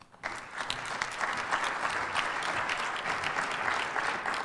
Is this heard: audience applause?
yes